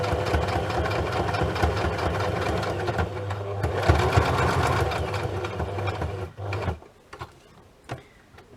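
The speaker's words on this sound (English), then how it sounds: "Right, let's get that sewn." A sewing machine stitches a fabric pocket, running steadily with a loud, close mechanical whirr for about six seconds, with a short backstitch burst partway through. It then stops, leaving quiet handling clicks and faint rustles.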